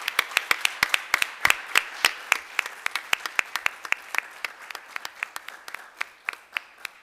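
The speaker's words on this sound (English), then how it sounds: "Let's give these folks a round of applause." A small group applauds at a town council meeting, giving crisp, sparse, uneven claps that continue steadily before thinning out toward the end.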